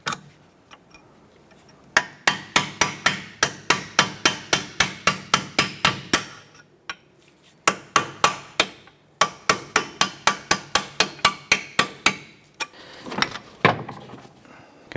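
Hammer blows on a punch drive out stuck bolts during a CV axle replacement on a 2006-2013 Chevrolet Impala, sharp metallic strikes in fast regular bursts of a dozen or so, separated by short pauses.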